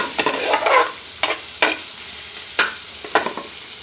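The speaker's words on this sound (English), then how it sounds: "Can you hear the sizzling going on?" Onion sizzles steadily in a hot frying pan in a restaurant kitchen, close up, with a few sharp scraping stirs of a utensil breaking through the frying hiss.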